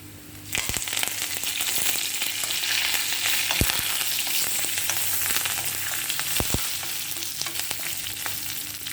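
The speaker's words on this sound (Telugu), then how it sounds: "చక్కగా ఈ పోపు వేయగా కరివేపాకు వేసుకుందాం" Curry leaves hit hot tempering oil with a sudden loud sizzle that keeps crackling and spitting steadily, with a couple of sharp clinks from a spoon against the pan.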